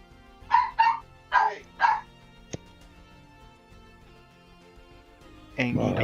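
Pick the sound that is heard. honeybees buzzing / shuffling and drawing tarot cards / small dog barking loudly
small dog barking loudly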